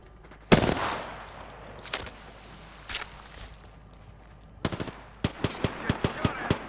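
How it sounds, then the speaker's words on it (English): Gunfire in the Apex Legends video game, with a loud opening shot, scattered single cracks, then a rapid burst of automatic fire near the end, close and sharp. "Getting shot at."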